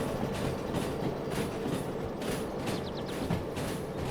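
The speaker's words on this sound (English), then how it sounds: "I'll just let the train roll back" A train in the Derail Valley video game rolls back along the rails, with steady rumbling and faint clickety-clack from the wheels, continuous and fairly quiet, with no voices.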